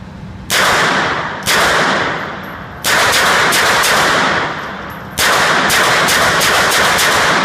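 An MP5 submachine gun fires on full auto outdoors in three long, loud, rapid bursts separated by short pauses, each burst a dense rattle of close shots with no talking.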